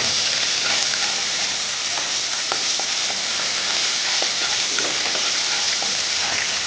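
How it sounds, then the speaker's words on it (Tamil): Tomatoes sauté in a pan for cauliflower keema, giving a steady soft sizzle with scattered light crackles and occasional stirring scrapes, close by and continuous, with no voices. "தக்காளி போட்டு வதக்கிட்டு இருக்கோம்"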